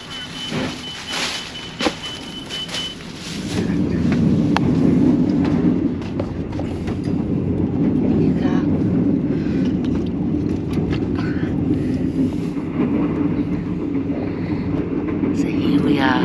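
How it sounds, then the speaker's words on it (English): A Thai second-class overnight sleeper train, heard from inside: faint beeps and clatter, then a steady loud low rumble of the carriage that continues to the end. "So here we are, the overnight train."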